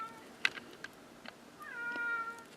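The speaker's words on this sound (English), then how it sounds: "That's my cat in the background, meowing." A cat meows in the background, a couple of short, faint calls followed by a longer, drawn-out meow, with light tapping sounds in a quiet room.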